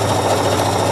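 A sewing machine runs steadily while stitching fabric for a storage box, a close, continuous motor whir and needle hum that fills the short moment.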